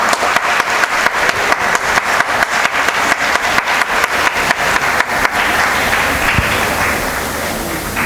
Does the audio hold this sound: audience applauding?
yes